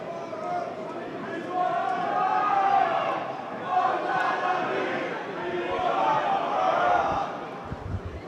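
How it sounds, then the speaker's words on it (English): Football crowd at a Queen's Park Rangers academy match against Swindon Town academy, singing in the stands in rising and falling swells heard from a distance, with voices talking over it. "A little bit of energy from the crowd there, just singing that Botan means one of our own."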